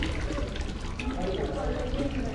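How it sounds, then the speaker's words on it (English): A small garden water feature trickles and splashes steadily, soft and continuous, heard up close with faint background noise in a garden in Kandy, Sri Lanka. "Nice little water feature in the middle."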